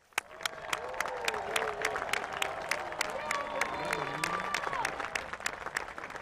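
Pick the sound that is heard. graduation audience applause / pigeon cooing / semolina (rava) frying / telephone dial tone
graduation audience applause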